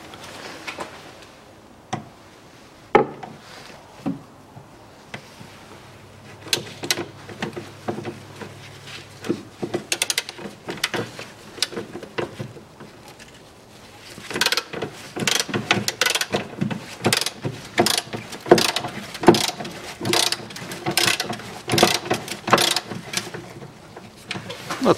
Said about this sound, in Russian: Откручиваю все болты.